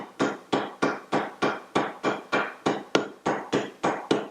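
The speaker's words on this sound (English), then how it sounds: "I like a smaller hammer, one that you can control a little more. You tap alternately, side to side," A small hammer taps a bearing into a Porsche 356 engine case in a steady, even rhythm, about three crisp strikes per second, close and ringing briefly.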